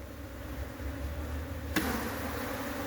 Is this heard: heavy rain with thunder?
no